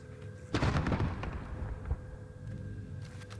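Enemy bullets striking the player in a battle royale video game, arriving as a dense cluster of loud impacts and cracks near the start, then fading into a quieter hum.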